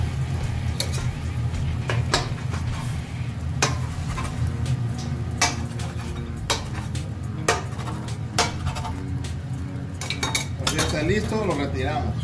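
Metal utensil scraping and clinking against a pan while a biscuit with egg is cut and flipped, sharp repeated clicks over a steady low sizzle from the cooking.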